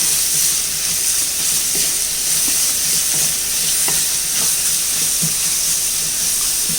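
Onions sizzle and fry in ghee with a spoonful of coconut oil, a steady dense hiss with occasional stirring scrapes, close and continuous, no talking.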